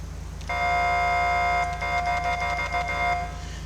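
An LAPD siren package on a police car in GTA LSPDFR sounds a loud, steady electronic wail that shifts into a rapid pulsing yelp, then cuts off, over a low constant hum.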